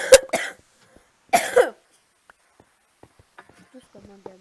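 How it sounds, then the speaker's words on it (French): A person coughs nearby in two sharp fits, a single hack and then a double cough, before near silence broken by faint small clicks. "Je tousse comme un gamin."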